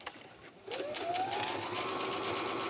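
A sewing machine starts up after a brief quiet moment and runs in a rapid, steady stitching rhythm through ripstop and mesh fabric, close and fairly soft, with no voices.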